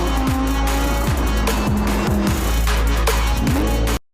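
A 2018 Audi R8 RWS non-turbo V10 engine screams loudly and continuously up to 8,500 RPM, its pitch climbing and dropping sharply through several rapid gear shifts, with no talking.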